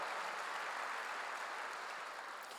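A church congregation at a Korean sermon applauds, a distant, faint and even patter of many hands that holds steady without voices on top.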